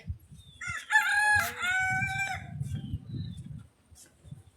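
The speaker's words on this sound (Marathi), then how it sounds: "ते कोंबड्या आहे ना, चुक चुक चुक चुक." Chickens make noise up close: a loud rooster crow rises over soft, repeated hen clucks that continue steadily underneath and after it.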